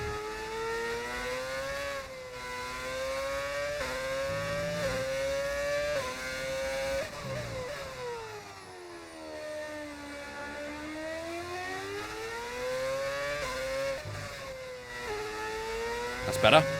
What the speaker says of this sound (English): I heard the revs dipping and just instinctively downshift.